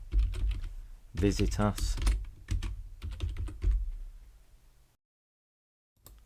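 Rapid clicking keystrokes on a computer keyboard, typing text into a flyer design, run close and steady with a short spoken phrase over them, then stop into silence before a final tap.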